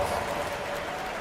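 Applause from a basketball arena crowd during a timeout, a steady dense roar of clapping that stays loud and even throughout the brief moment.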